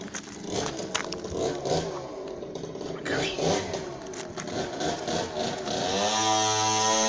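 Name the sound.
motocross motorcycle engine running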